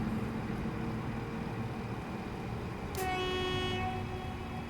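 In-game audio from Train Simulator 2021 on the Fife Circle Line: a continuous rumbling train with a hollow, echoing ambience, then a sharp horn toot partway through that rings on as a sustained tone.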